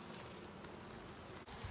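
Honey bees buzzing around a freshly harvested honey frame, giving a steady dense outdoor hum with a continuous high whine and no speech.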